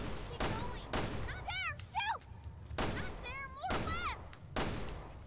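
Sharp gunshots from Resident Evil: Revelations 2 crack out at a steady spacing, five loud bursts over a few seconds, with gaming speech and electronic chirps between them.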